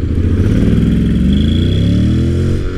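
A Honda X-ADV 750 scooter-style motorcycle with DCT rides on after hard braking, its engine note a steady, loud mid-pitched drone that slowly rises in pitch as it pulls away, with no talk over it.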